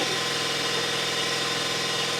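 A polishing buffer running on a car headlight drones as a steady, loud mechanical whir with a constant hum, unbroken and without any voices.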